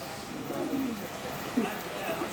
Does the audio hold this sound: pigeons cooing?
yes